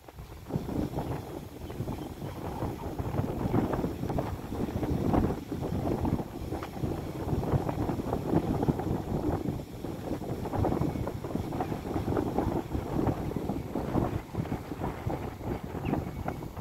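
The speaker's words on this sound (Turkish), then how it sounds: "Çok şiddetli rüzgar var şu anda." Very strong wind at an open-air pigeon market in Istanbul, roaring and buffeting against the microphone in continuous gusts for the whole stretch, loud and without talk.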